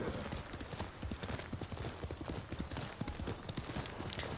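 Horse hooves clip-clop steadily in the Ghost of Tsushima video game, a quick continuous rhythm of hoofbeats close up and fairly loud.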